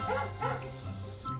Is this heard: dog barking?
yes